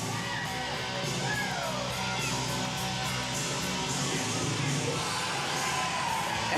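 A pro wrestling audience at a championship ladder match keeps up a dense, steady roar of yelling and chanting, distant and reverberant, with no break across the stretch.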